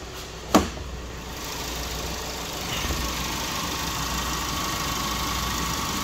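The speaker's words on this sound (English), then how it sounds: "Go ahead and we'll pop the hood quick, listen to it run." A 2015 Volkswagen Jetta with a 1.8-liter turbo engine idles with the hood open, giving a steady, even running hum with one brief click near the start and no talking.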